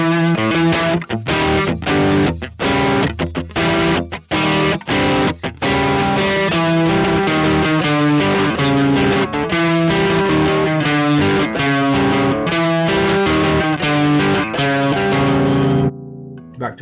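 A distorted electric guitar through a Simplifier DLX amp-simulator pedal plays a steady run of chords and notes with a lush, lingering plate reverb tail, loud and continuous, then fades out.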